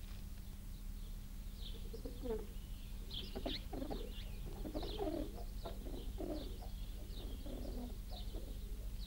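Pigeons coo in a steady series of soft, low calls, close by, with a low background hum and a voice speaking between them.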